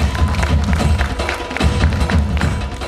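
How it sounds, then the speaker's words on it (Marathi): Audience applause at a journalists' association gathering: a dense, steady wash of clapping hands that stays loud for about three seconds without a break. "त्यासाठी जोरदार टाळ्या वाजवा"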